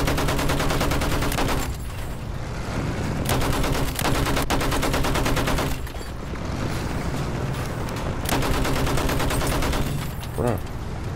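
Continuous gunfire rattles in the video game Battlefield 1, with dense, loud bursts of automatic weapons firing almost without pause over a busy battlefield din.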